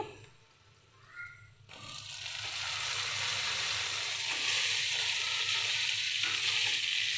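Eggplant pieces drop into a pan of cooking onions and start to sizzle, a steady hiss that builds after a clatter and stays loud and continuous, with faint stirring underneath.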